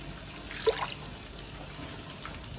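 Water poured into a cooking pot of onions over a lit flame, a brief soft trickle and splash near the start, faint against quiet kitchen background.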